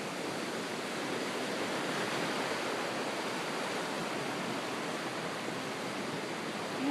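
River water rushes past in a steady, continuous wash of broadband flow, loud and close throughout with no voices or breaks.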